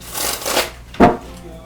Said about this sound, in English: So, I'm going to shuffle these up a little bit